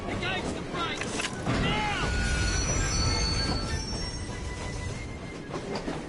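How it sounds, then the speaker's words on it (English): Train brakes squeal on a train in the video game Assassin's Creed: Syndicate, long piercing metallic squeals over heavy rumbling and clatter of the wagons, with voices speaking in between. "Engage the brakes."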